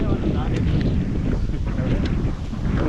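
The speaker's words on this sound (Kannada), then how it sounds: "ಗಾಳಿ ಅಂತ ತುಂಬ ಇದೆ, ಗಾಳಿ ಇನ್ನು ಅಪ್ಪಿದೆ" Strong wind buffets the microphone on a hilltop fort trail in Karnataka, a loud continuous low roar with steady gusting throughout, masking everything else.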